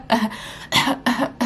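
A person with sickle cell recovering from COVID-19 demonstrates a cough: four short, harsh, close bursts in quick succession, separated by brief pauses, with no other sound.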